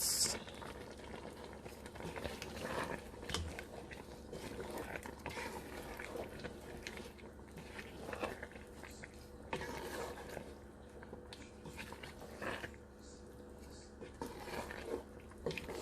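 Seafood okra soup with snail and shrimp simmers gently on low heat, giving soft bubbling and occasional pops and drips, quiet and close, running on for about fifteen seconds.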